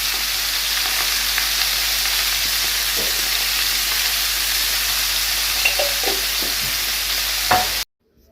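Beef for a pot-style kebab fries over high heat in a pot, giving a loud, steady, close sizzle with occasional stirring clicks before cutting off abruptly.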